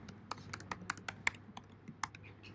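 Sharp, close key taps on a computer keyboard as a search phrase is typed into Google, coming in an irregular string of about a dozen clicks over a faint steady hum, with no talking.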